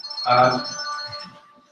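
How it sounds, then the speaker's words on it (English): A mobile phone rings briefly during a conference talk at Himley Hall, a bright tonal chime that fades out within about a second, with a murmur of voices underneath. "were you told to switch your mobile phone?"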